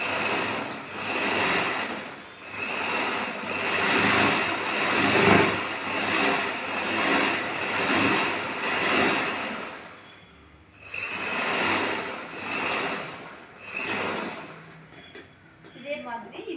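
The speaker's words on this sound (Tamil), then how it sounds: "1/4 இன்ச்சு மடக்கி மடிப்பின் ஓரத்தில், அதாவது வெளி ஓரத்தில் ஒரு தையல் போட்டுக்கிறோம்." A sewing machine runs in long steady bursts as it stitches a quarter-inch folded hem on a chudithar, its motor humming loudly with a brief pause partway through before it restarts.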